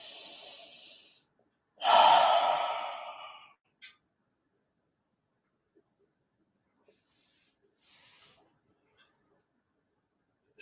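Deep breaths during a guided breathing exercise: one long, loud exhale like a sigh stands out, followed by a few faint, short breaths and soft snorts in near silence.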